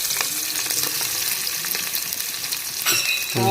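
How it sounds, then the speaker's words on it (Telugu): Onion paste for a fish curry frying in a pan, a loud dense crackling sizzle heard up close with stirring scrapes and a sharper burst near the end. "ఇది ఉల్లిగడ్డ పేస్ట్ ఇది వేస్తుంది మనక."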